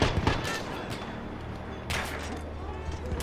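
Incoming gunfire aimed at the player in the video game Battlefield 1, sharp shots cracking at the start and a heavier burst partway through over steady battlefield rumble, with a voice talking in the mix.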